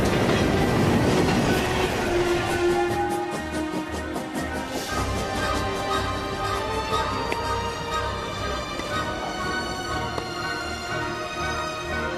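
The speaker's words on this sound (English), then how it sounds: "Tout le monde à bord du train bleu. Départ Gare de Lyon pour Monte-Carlo." The Blue Train pulls out of Gare de Lyon bound for Monte-Carlo, a loud steady rumble of railway carriages with clickety-clack wheel beats and faint squealing, no voices over it.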